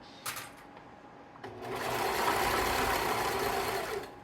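A sewing machine stitches in reverse and then forward at a steady, close whir, starting in a short burst before settling into a louder continuous run with no voices over it.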